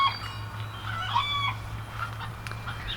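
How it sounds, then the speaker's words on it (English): Backyard chickens in their coop at egg-laying time cluck and squawk excitedly at a moderate distance, a busy run of repeated calls over a low steady outdoor hum, with no voices. "the chickens are over there in the coop going crazy because"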